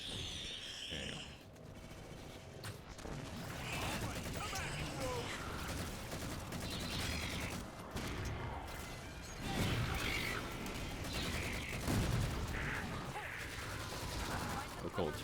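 Turret gunfire in the shooter Halo: The Master Chief Collection, dense rapid mechanical bursts and impacts, loud and close, continuing across a busy battle with talk mixed in.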